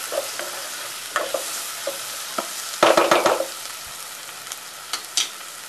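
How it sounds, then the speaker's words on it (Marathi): Onion and garlic sautéing in a pan while being stirred, with scraping strokes and sharp clicks at irregular intervals over a low sizzle, and a busier burst of stirring near the middle. "आपण त्याच्यामध्ये लसूण टाकणार आहोत. हे चांगलं परतून घ्यायचं."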